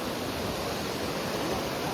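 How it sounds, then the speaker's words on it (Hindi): Water pours down from a waterfall beside a village flour mill, a dense, loud, steady rushing roar with no breaks and no voices. "ये ऊपर वाटरफॉल है, से पानी आता है"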